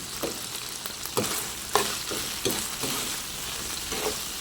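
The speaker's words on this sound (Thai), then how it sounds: "ผัดให้เข้ากัน" Pork stir-fried in a pan with sweet dark soy sauce, a loud close sizzle broken by repeated scraping stirs of the spatula at a steady pace.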